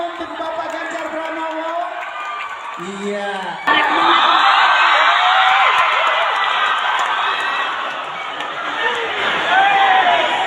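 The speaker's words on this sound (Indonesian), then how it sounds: "mahasiswa menyambut Ganjar dengan riuh tepuk tangan" Students in a university auditorium burst into loud, sustained applause and cheering to welcome a former Central Java governor, a dense crowd roar that swells after a brief lull, with voices calling out over it.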